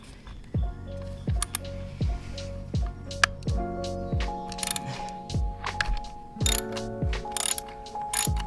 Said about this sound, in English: So I'm just gonna put a 3/8 drive 12 millimeter socket on that and